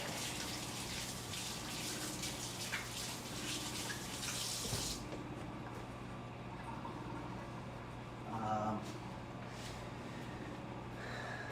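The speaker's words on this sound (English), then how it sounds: "I'm gonna have to wash these hands." Water from a running tap splashes over hands at a sink for about five seconds, then cuts off, leaving a quiet room with a brief rustle and a few faint knocks.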